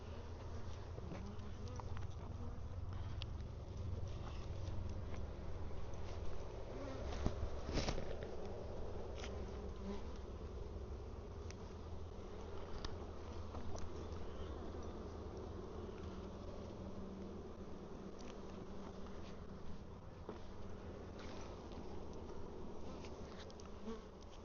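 Honey bees from an open hive during an inspection of honey supers fill the air with a dense, steady buzzing that holds close and even throughout, with a brief sharper knock partway through.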